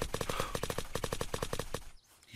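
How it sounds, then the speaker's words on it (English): Rapid automatic gunfire from a weapon in the survival game Unturned, a steady burst of evenly spaced shots that stops abruptly near the end, loud and close with no talk. "He's shooting at us."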